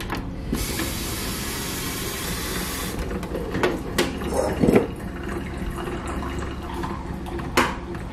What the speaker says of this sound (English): Oh, I add more water.